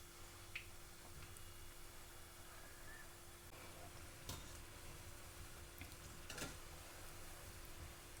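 Ragi vaipan frying in oil over a low flame gives a faint, steady sizzle with a continuous soft crackle and a few light clicks, quiet and close.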